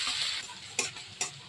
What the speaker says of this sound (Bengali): কড়াতে একটু সাদা তেল দিয়ে আদা রসুন আরও দিয়ে দিল।